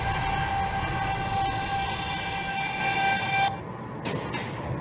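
NYC subway N Express train running in the OpenBVE simulator, a steady rumbling ride with a sustained whine and hum that cuts off abruptly near the end, no voices.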